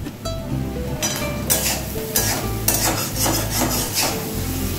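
Salted potatoes frying in a pan are stirred with a utensil, giving repeated scraping, clattering strokes over a steady sizzle, close and fairly loud.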